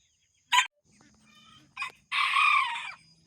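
Young bachelor roosters in a grassy chicken tractor after rain give a short sharp squawk, a softer cluck, and then a drawn-out crow, close and clear.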